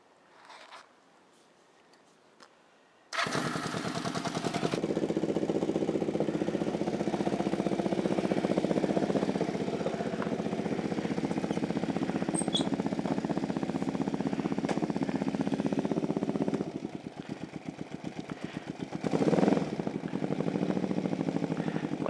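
A motorcycle engine cranks after a quiet moment, catches and settles into a steady, loud, rumbling idle that holds for the rest of the stretch, with a brief rise in revs near the end, close by and without talking.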